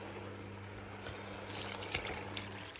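About 900 ml of water running steadily into a pot for spinach cream soup, a continuous splashing hiss that grows a little brighter and fuller partway through, with a low hum underneath.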